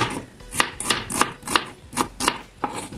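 A knife chops through an onion on a cutting board for ginataang isda, about ten crisp, evenly spaced strokes close up with nothing else heard.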